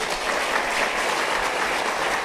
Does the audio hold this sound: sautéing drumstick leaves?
no